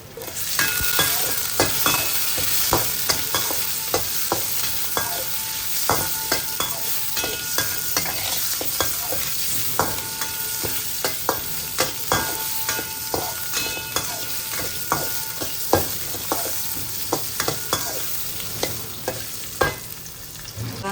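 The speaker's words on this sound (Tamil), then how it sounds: "பெரிய வெங்காயம் போட்டுட்டு அதை வதக்கணும்" Onion sautéed in a pan for a South Indian carrot stir fry, with a constant loud sizzle and frequent sharp clinks of a spatula stirring against the metal, rhythmic and close.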